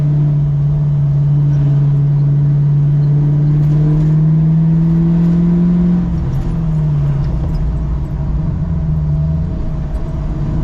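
A 1968 Mustang Fastback with a manual gearbox drives along, its engine droning loud and steady, then the pitch drops around a gear change before settling again; no one speaks.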